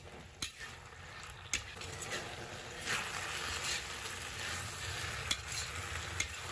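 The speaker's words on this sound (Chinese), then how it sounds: "接着我们把茄子也倒进来，大火给它翻炒个7749下，翻炒均匀。" Eggplant is stir-fried over high heat, producing a low, steady sizzle punctuated by occasional sharp knocks of a spatula against the wok, quiet and without speech.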